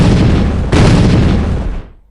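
A big explosion effect in the tower defense game Bloons TD 5 bursts out loud and booming, with a second blast hitting partway through before the rumble cuts off abruptly.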